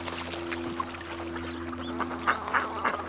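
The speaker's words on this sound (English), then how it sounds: "Even some ducks." A few ducks quack in short bursts on a farm during daily chores, standing out over a steady low mechanical hum in the background.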